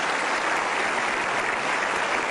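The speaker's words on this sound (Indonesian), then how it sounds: "kita berikan aplaus" An audience breaks into applause at a gathering honouring teachers, a dense, steady wash of clapping from many hands held at one loud level throughout.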